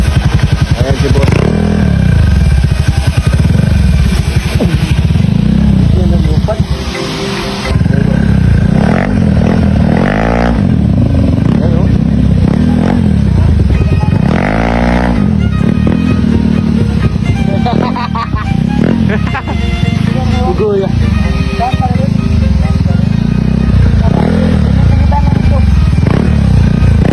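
A Beat motorcycle fitted with a big carburetor runs loud and close at night, its engine revving and falling repeatedly with a rough, throaty tone and a few brief dips.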